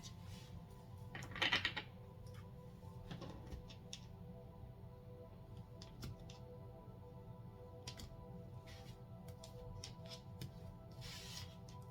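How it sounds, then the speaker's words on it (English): A quick riffle of tarot cards being shuffled, followed by a few soft, scattered taps and clicks in a quiet room. "One last shuffle here before we cut and go to the bottom of the deck."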